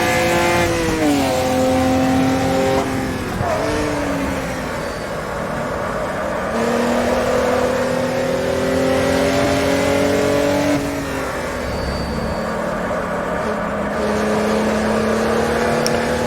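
A race car engine revs and pulls through the gears on a track, rising in pitch, dropping at each shift and climbing again. The sound is loud, close and sustained, with no voices over it.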